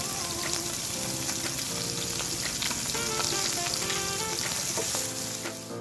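Dried churi fish frying with salt and turmeric gives a loud, steady sizzle that runs throughout, with occasional scraping stirs and no voices.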